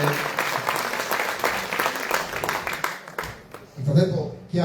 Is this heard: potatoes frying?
no